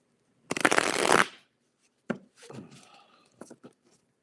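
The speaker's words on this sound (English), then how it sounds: "So I can shuffle slowly." A deck of tarot cards shuffled slowly at close range, one long riffling burst followed by several shorter bursts of shuffling and handling, with no talking.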